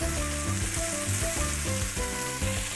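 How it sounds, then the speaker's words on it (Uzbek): Chopped onion and red bell pepper sizzle steadily in a hot frying pan, a continuous close crackle with soft stirring scrapes, no voices. "Piyozni ham yaxshilab qovurgandan keyin bulg'or qalampiri unaqa ko'p qovurish shart emas."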